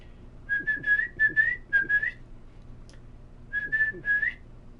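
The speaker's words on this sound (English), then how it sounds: "Can't hardly whistle anymore." A person whistles a short series of bright, clear notes in two bursts with a pause between them, calling a dog at night; the whistling sounds close and fairly quiet.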